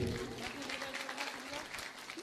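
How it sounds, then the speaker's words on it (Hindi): Clapping from a gathering at a guru's ashram celebration, a fairly soft, continuous patter of hands with a voice briefly audible over it. "बहुत बहुत तालियां हो जाए गुरु जी के लिए।"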